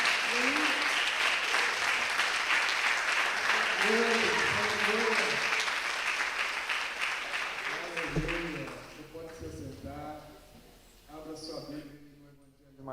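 Dense crowd applause in a church service fills most of the stretch, then fades as a voice starts talking over the thinning claps.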